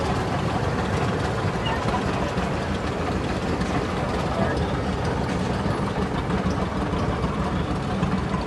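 A 1948 John Deere AO orchard tractor engine runs steadily in an outdoor town parade, a continuous low rumble that stays even throughout, with crowd noise and a voice over the public address.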